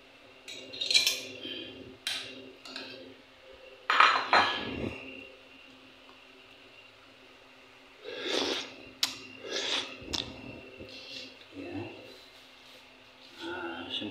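Tamban fish go into a boiling pot for sinigang amid metal clinks and scrapes of utensils against the pot, in scattered bursts with quiet gaps, all fairly faint.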